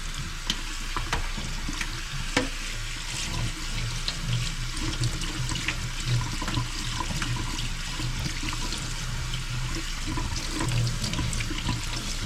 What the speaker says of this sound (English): soba noodles need to be shocked good with cold water, so we'll give them